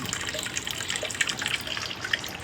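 A small decorative water fountain runs with ash-blackened water, giving a steady close trickle and splash that continues alone without pause.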